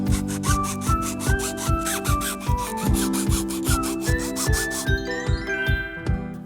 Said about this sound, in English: we got everything sanded down to 100 grit, and we've mostly knocked away all of the layer lines